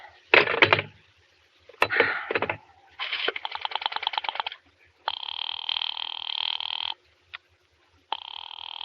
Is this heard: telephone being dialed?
yes